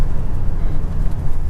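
A 1978 Chevrolet Corvette C3 Stingray with its V8 engine running, a loud, deep, rumbling idle that stays steady and close, with people talking over it.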